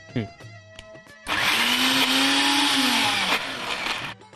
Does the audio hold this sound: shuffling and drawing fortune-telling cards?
no